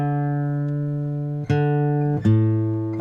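A sustained instrument string plays a steady, slightly flat note, plucked again twice with sharp attacks, clear and close with no talking.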